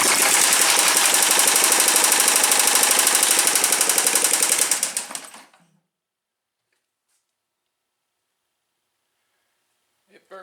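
A rat rod golf cart's small engine runs loud and steady with a rapid knocking chug for about five seconds after the choke is taken off, then cuts out abruptly into near silence.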